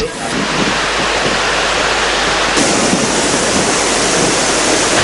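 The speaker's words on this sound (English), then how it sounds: "water was overflowing from the top of the dam above the 12 spill gates" Water overflowing the top of a reservoir dam above its spill gates makes a loud, continuous roaring rush with no break.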